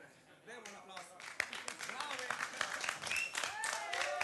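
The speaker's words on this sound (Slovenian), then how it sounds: "Aplavz za nje?" A live radio studio audience applauds and cheers for a band, steady clapping with whoops and shouts, moderately close, with voices mixed in throughout.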